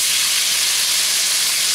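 Tomatoes land in a hot pan with scallions for a Chinese tomato and egg stir fry, giving a steady, loud broadband sizzle and hiss that holds evenly throughout with no talking.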